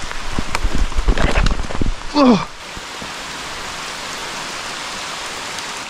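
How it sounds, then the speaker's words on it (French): Heavy tropical rain pours down during a riverside fishing outing, a dense, steady hiss of drops close by, with a short spoken exclamation breaking through midway. "c'est pas de la petite pluie, hein. C'est la pluie tropicale"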